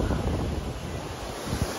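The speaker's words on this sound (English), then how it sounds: "the ocean's out in front" Ocean surf washes onto Negombo beach in Sri Lanka as a steady, dense roar mixed with gusty wind buffeting the microphone.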